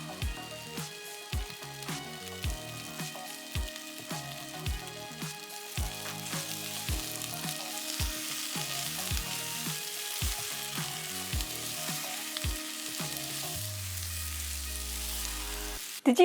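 Minced garlic frying with eggplant in a pan gives a steady, close sizzle that runs under background music with plucked tonal notes.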